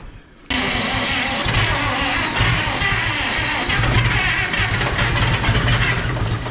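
A car engine with a fault turns over and catches after a starter crank, then runs loud and steady at a rough throttled idle for several seconds with no talking.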